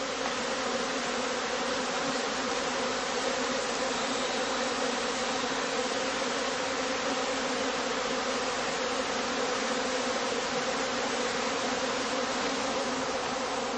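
Honeybees swarm around traditional straw skep hives in Germany, a dense, steady buzzing hum that fills the scene without pause, close and loud with no voices.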